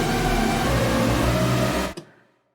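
Bright supersaw synth patch built in FL Studio's Sytrus with operators detuned a full 100 cents, a loud, thick, wide sustained chord holding steadily for about two seconds before cutting off abruptly into a short fading tail.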